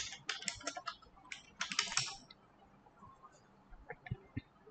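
Fast keystrokes on a computer keyboard while entering a search in a web browser, a dense burst of clicks for about two seconds, then sparser, fainter taps with no talking.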